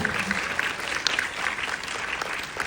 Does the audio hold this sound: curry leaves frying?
no